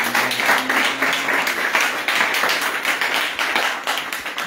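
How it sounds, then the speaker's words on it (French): A church congregation at a revival service claps and cheers together, a dense steady wash of hands and voices acclaiming throughout, loud and close with no pauses. "Acclame le roi des rois."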